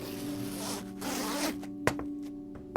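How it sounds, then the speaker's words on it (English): A backpack zipper is pulled closed in a long, close, rasping run, then a pause and a few short sharp tugs and clicks as it catches and finishes. "She was having trouble zipping it up."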